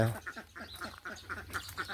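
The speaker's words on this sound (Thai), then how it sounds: "ทำไมเป็ดมันต้องร้องกราบด้วย" Several ducks quack in quick, repeated bursts, a busy overlapping chorus of nasal calls heard at a modest distance.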